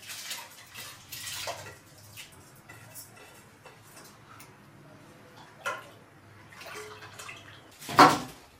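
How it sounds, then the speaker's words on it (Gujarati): Rice gets washed with water in a pot in a village kitchen, with intermittent swishing and clinks of grains and metal, quiet stretches in between, and a sharper splash or clatter near the end. "ચાલો આપણે ચોખા ધોઈ અને હવે આમાં નાખી દઈએ"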